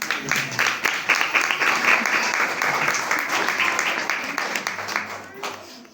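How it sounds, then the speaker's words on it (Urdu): An audience at a Christmas church gathering claps steadily and densely for several seconds, the applause fading slightly toward the end, with voices mixed beneath it. "ان کے لیے تالیاں بجائیں"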